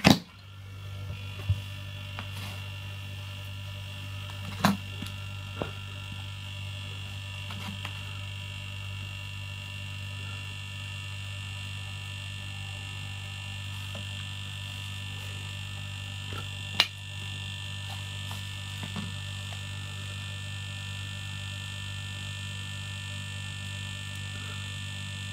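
A DIY vacuum chamber pump runs with a steady low electrical hum and a faint higher whine, constant for the whole stretch, with a few small clicks and no talking.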